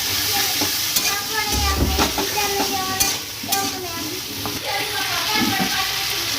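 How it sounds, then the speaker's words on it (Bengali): Brinjal and potato are stir-fried in a pan for Bengali home cooking: a loud, steady sizzle under repeated scraping strokes of a spatula, with occasional knocks against the pan. "আমি আর একবার কষে নেবো ভালো করে"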